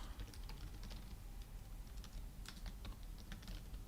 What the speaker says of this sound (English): I'm going to type that as well.